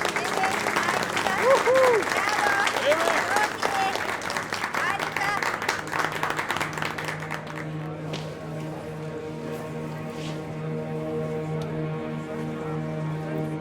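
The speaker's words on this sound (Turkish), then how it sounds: "Hadi onları kocaman alkışlayalım." At a school prom, a crowd breaks into loud, dense clapping for the newly named king and queen. The applause fades after several seconds, and talk and music continue underneath.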